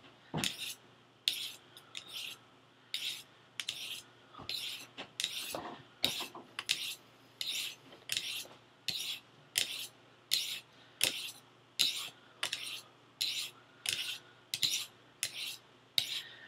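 Knife blade drawn repeatedly along a Lansky Turn Box sharpener rod, giving a steady series of about seventeen crisp, scraping metallic swipes at an even rhythm, close and clear with nothing else heard.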